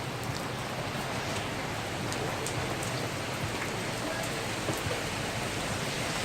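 Steady rain falling outdoors in the countryside, a dense continuous hiss of drops on surfaces with scattered sharper drip ticks, constant in level throughout with no speech.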